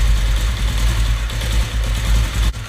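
A Honda CD 70 motorbike engine idles unevenly on a faulty carburettor slow jet, with a loud, close, throbbing low rumble that wavers and dips briefly near the end.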